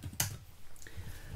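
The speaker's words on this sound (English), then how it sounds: "if I just type some values in here for the sake of demonstration" Short bursts of typing on a computer keyboard while values are entered into a blank Excel workbook, a few soft, close key clicks over quiet room noise.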